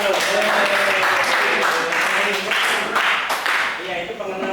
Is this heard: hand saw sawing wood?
no